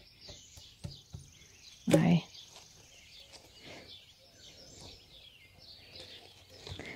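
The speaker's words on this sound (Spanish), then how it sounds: "El canto de los pájaros hoy," Birds chirp and sing softly after rain in a garden, scattered light calls across the background, with a brief close voice speaking once.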